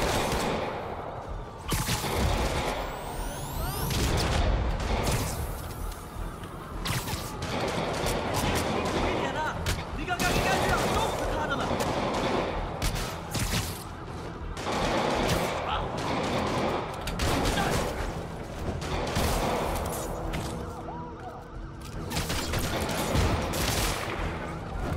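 Rapid bursts of armor-piercing gunfire crackle through a street battle with police in Spider-Man Remastered, dense volleys and fusillades running nearly nonstop at high level, with voices talking over parts of the fight.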